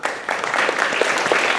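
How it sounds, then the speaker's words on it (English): An audience applauds at a youth leadership program presentation, loud dense clapping from a crowd, continuous and even for the full stretch. "Please give them a big round of applause"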